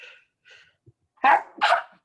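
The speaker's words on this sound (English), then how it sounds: "I'm going to have to sneeze." A person sneezes twice in quick succession, loud and close, after a few faint breaths, with no speech.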